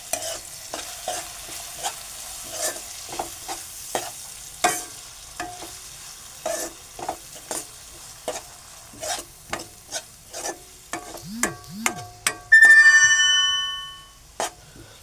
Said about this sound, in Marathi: पण हे मसाले ते पुन्हा ढवळून घेऊया